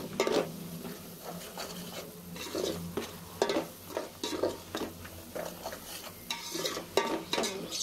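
A spoon stirs powdered spices through a beef biryani mixture frying in a pan, with scraping strokes and soft sizzling in uneven bursts, close by and alone.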